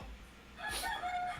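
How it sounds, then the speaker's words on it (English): A rooster crows once in the background, a brief rising call that stands out clearly over quiet room noise. "Shut up, Rooster"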